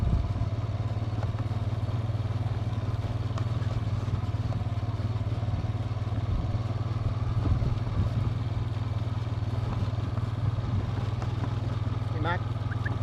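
A four wheeler quad bike engine runs steadily throughout at close range, a continuous low droning hum with some clatter on top, while a voice calls out briefly near the end.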